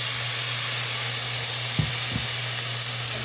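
Chicken sizzling in a pan with amino acids, a steady loud frying hiss with steam and two soft stirring knocks, close by.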